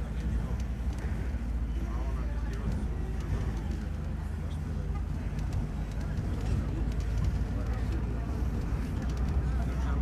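Steady low rumble of a Güleryüz Ecoline city bus on line 37, heard from inside, with continuous engine and road drone throughout and faint rattles and background voices.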